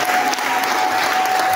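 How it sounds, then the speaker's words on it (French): A church congregation bursting into applause and cheers during a French-language service, dense continuous clapping from a large crowd filling the room, loud and close throughout. "On donne des acclamations au Seigneur."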